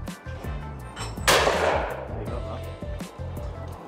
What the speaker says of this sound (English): she's shooting David's 32-inch trap gun